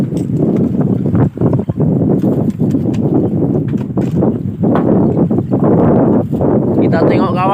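Strong sea wind buffets a fishing boat offshore, a steady loud roar of gusts and microphone wind noise with water slapping underneath, while someone talks over it throughout.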